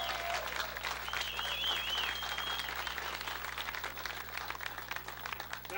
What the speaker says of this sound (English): I think it's worth a round of applause